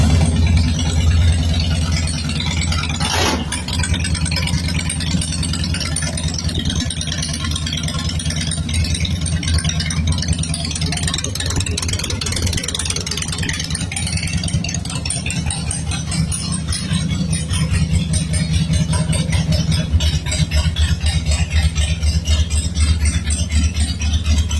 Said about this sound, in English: A 2002 Harley-Davidson